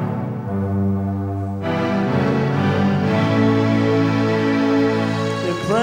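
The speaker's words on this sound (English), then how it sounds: "the instrument he's playing is in fact a guitar synthesizer. It doesn't do just the guitar sounds, it does some specialist effects as well" A guitar synthesizer played live sustains rich, shifting tones with layered harmonics, swelling into a fuller, brighter texture partway through and continuing steadily without speech.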